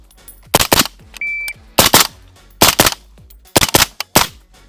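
A PSA JAKL rifle fires loud, close gunshots in short clusters of two or three during a 500-round endurance test, with brief pauses between bursts and a short electronic beep partway through.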